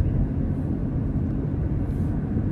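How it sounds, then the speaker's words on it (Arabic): A DHL cargo plane comes in to land at Bahrain's airport, a steady low rumble of engines heard from a distance, broad and even with no distinct peaks. "هذه الطيارة نازلة المطار"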